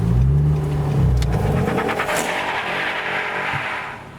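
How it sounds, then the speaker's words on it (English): A Mercedes E63 AMG pulls away from a car show, its engine rising in a loud rumbling surge and fading as it moves off, with crowd noise in the background. "We've got the E63 AMG departing the show in front of us."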